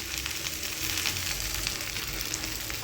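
Okra (bhindi) fries in a pan with a steady, dense sizzle and crackle that holds evenly throughout, close and moderately loud, with no voices.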